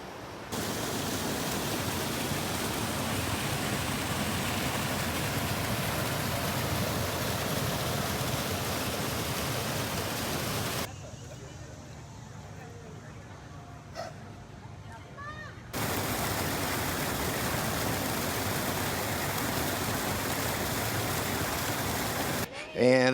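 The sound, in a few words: waterfall water crashing near farmers market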